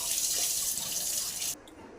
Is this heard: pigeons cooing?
no